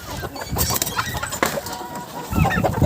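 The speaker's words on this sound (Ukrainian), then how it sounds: "О, та курка назад сіла, бачите?" Hens clucking in a farmyard among turkeys, guinea fowl and rabbits, several birds calling over one another in a busy, continuous chatter with a louder burst near the end.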